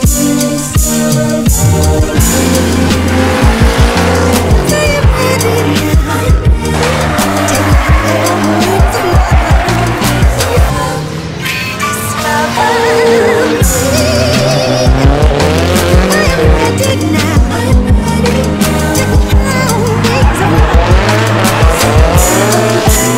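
Drift cars at the Final Bout event scream past with sustained squealing tires and roaring, revving engines, loud and continuous with repeated throttle blips and skids throughout, no talking.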